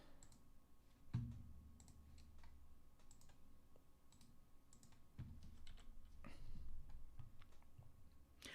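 Computer keyboard keys and mouse buttons clicking at a desk, a steady patter of close, light taps and clicks with a few heavier thumps, no one talking.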